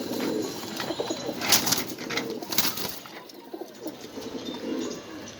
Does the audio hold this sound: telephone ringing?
no